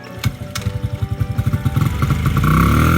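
A Honda CRF50 minibike engine fires up on the first kick and runs, a close, loud, rapid single-cylinder putter that builds and rises in pitch toward the end.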